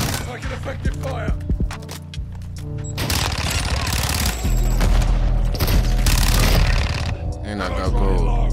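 Gunfire from Call of Duty: Modern Warfare II, likely a Fennec 45 submachine gun, bursts with booming impacts across a busy multiplayer match, close and loud, with speech-like sounds in the mix.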